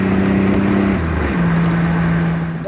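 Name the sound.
1987 Buick Grand National turbo 3.8 V6 accelerating under boost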